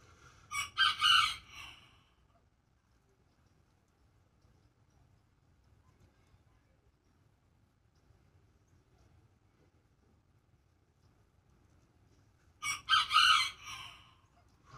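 A young rooster crows twice, loud and near, each call a rising, drawn-out cock-a-doodle-doo, with a long quiet stretch between them and no talk.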